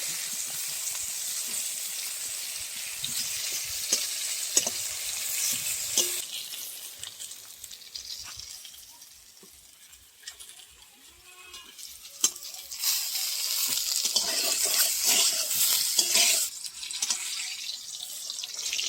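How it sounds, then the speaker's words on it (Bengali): Eggplant slices sizzling and crackling in hot oil, close by, with occasional clicks and scrapes of a utensil, fading briefly then rising again. "আমরা বেগুন ভাজা দেখুন কি সুন্দর হয়ে গেছে"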